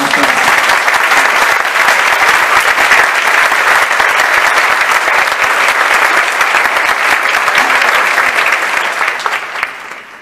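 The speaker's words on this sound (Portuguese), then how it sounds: "Eu queria pedir uma salva de palmas para a pastora Jane e para o nosso pastor." A church congregation at Batista Lagoinha gives a pastor couple a round of applause, loud, dense and sustained clapping from a big crowd that tapers off in the last second.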